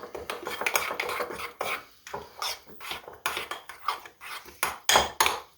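A spoon stirs sweet and sour sauce for chicken, making steady rhythmic scraping and rubbing strokes against the pan or bowl, close and moderately loud, repeating in quick bursts.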